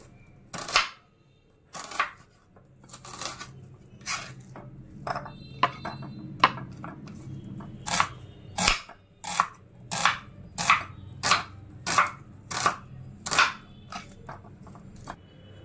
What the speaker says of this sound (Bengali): তো এখন পেঁয়াজ কেটে নিচ্ছি প্রথমে।